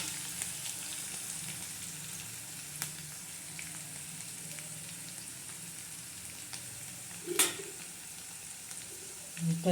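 Garlic and curry leaves sizzle steadily in hot tempering oil, a soft continuous crackle with occasional utensil taps and one sharper clatter near the end.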